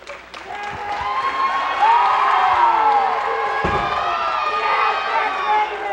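A school crowd applauds and cheers a graduating senior, a dense, steady wash of clapping with whoops and shouts held at high level throughout, with voices mixed in.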